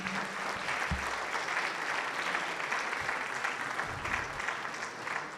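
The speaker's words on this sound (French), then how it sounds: "On peut les applaudir." A conference audience applauds steadily for several seconds, a dense patter of many hands clapping at moderate distance, with a brief low murmur underneath.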